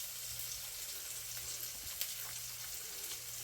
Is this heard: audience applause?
no